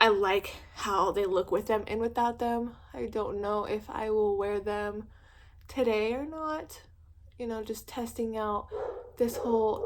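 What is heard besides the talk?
No everyday noises stand out.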